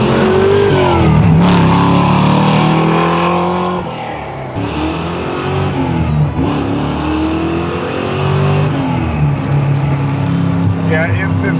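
A custom 1967 Camaro making over 600 hp pulls away hard in first gear, its loud engine roaring and climbing through the revs up close. People talk over the engine noise.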